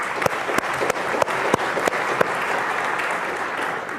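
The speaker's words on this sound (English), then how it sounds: "Everyone just clap." An audience at a science lecture claps together in a dense round of applause, with a few sharp, louder claps standing out near the front, steady for four seconds.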